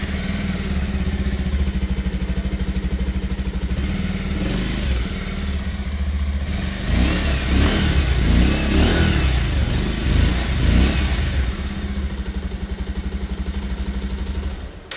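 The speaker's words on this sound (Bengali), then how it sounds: "চলুন এর এক্সস্ট সাউন্ড একবার শোনা যাক।" A Bajaj Pulsar 150 motorcycle's exhaust rumbles nearby, idling steadily, then rising in a few throttle revs before settling back to a loud, even idle.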